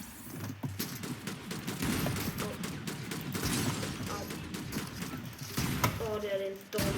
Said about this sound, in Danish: Det er en dårlig shotgun. Den har kun 2 skud.